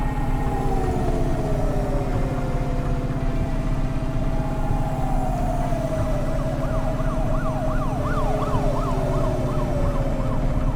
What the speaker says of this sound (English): we hear the police sirens quite a bit